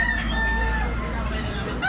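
A white stag rooster crows close by, one long drawn-out call lasting nearly two seconds over a steady low background hum.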